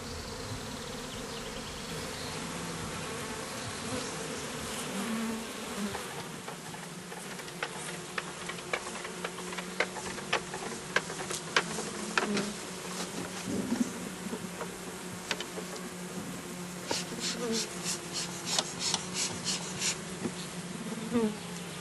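Honeybees buzz steadily around a beehive, a dense continuous drone with some insects passing close and others farther off, plus faint ticking clicks in the latter half; no voices.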